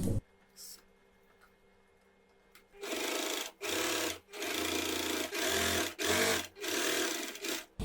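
A sewing machine stitches along the edge of a women's pant, running in about six close, loud bursts separated by brief pauses after a quiet opening.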